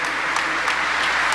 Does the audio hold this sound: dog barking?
no